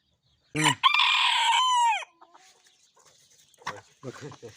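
An İspenç or Denizli breed rooster crows once, loud and close, a long strained call, followed by quieter clucks and short hen noises after a pause, outdoors in snow.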